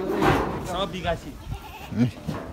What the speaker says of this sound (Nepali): लोकल बाख्रा छ लोकल बोका छ लोकल बाख्रा छ